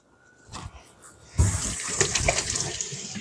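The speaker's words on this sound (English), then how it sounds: "Give our hands a quick wash." A kitchen tap runs steadily while hands are washed under it after seasoning a rack of lamb, a close, continuous splashing rush that starts abruptly after a brief quieter lead-in, with no talk.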